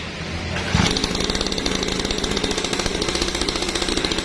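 The SK 49 pull-start engine of a mini trail bike fires and settles into a steady, rapid putt-putt idle, loud and close, running continuously after a brief start-up burst, with no speech.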